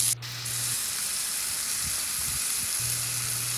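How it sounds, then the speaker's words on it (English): Smash burger patties sizzle and sear on a hot grill in a steady, loud, close hiss, with a few soft scraping knocks partway through and no talking. "You really want to press down for several seconds to ensure good contact with the grill and a really good sear."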